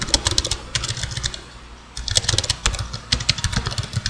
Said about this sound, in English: And I really can't type.